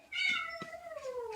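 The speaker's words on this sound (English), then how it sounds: "you gotta excuse my cat," A house cat gives a single drawn-out meow, close and fairly clear, with its pitch sliding downward toward the end.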